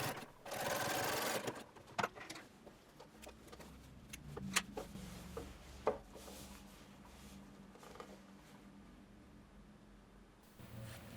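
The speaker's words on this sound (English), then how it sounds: "For top stitching, use a top stitching needle in your sewing machine, tighten the top tension and lengthen the stitch" Sewing machine top stitching a seam on a shirtwaister dress, a brief close whirring run near the start followed by a quiet stretch of small clicks and fabric handling.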